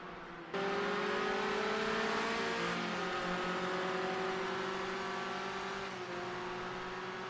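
A race car engine screams at high revs around 7,000 RPM during a Premier Racing League round at Sonoma, a loud sustained whine holding steady with a brief dip where the pitch shifts, no talk over it.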